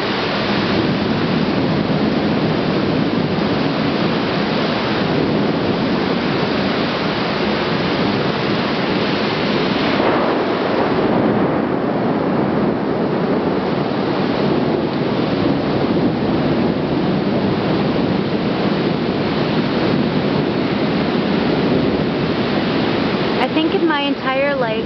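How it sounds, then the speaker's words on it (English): Heavy rain pours down in a thunderstorm as a steady, loud, dense hiss that fills the whole stretch, with a faint rumble near the middle and no talking. "I've never seen thunder and lightning like this before."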